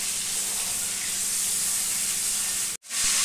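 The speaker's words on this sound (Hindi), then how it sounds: "इसी ऑयल में मैं ये शिमला मिर्च फ्राई कर रही हूँ" Capsicum, after cubed onion, fries in hot oil in a home kitchen, giving a loud, steady close-up sizzle that cuts out briefly near the end before resuming.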